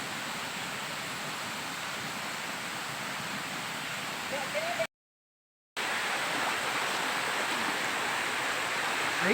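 Steady broadband rush of a waterfall at Sungai Pisang, Malaysia, its water flowing between tree roots, loud and continuous with a short silent gap midway, while a voice speaks faintly in the background.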